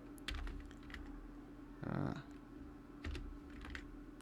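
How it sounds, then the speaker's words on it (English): Someone types on a computer keyboard, a few quiet key taps followed by a denser burst of clicks in the middle, then more scattered taps, close and faint. "So I'm going to type in the name."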